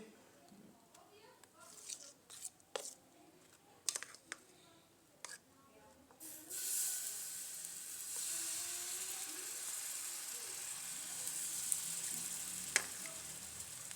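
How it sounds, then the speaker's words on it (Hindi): A paratha is laid on a hot oiled tawa and starts a soft steady sizzle that continues to the end. A few clicks and knocks of handling come first, and a voice speaks quietly at the start. "ऑयल हमारा गर्म हो गया, तवा भी अल्हम्दुलिल्लाह गर्म हो गया। अभी हम इसके ऊपर डालेंगे"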